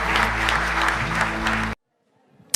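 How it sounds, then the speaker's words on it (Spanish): Loud congregational applause in a church service, mixed with sustained music and organ-like tones, cutting off abruptly to near silence after about two seconds. "Le damos un fuerte aplauso a nuestro Dios."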